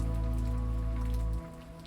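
Rain falls steadily in a dense, even hiss of drops on a surface, then drops sharply quieter near the end as the shower eases.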